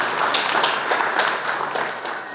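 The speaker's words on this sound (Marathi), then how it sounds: "त्यांच्यासाठी एकदा जोरदार टाळ्या." Sustained audience applause at a Diwali morning cultural programme in Saswad, a dense, steady wash of many hands clapping together, fairly loud and continuous throughout.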